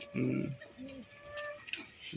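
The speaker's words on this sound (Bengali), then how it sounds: "বিস্কুট মাদি পুরো গাঢ় হলুদ" A female pigeon, a yellow-eyed biscuit-coloured bird, gives a few low cooing calls up close, with soft rustling and background sounds between them.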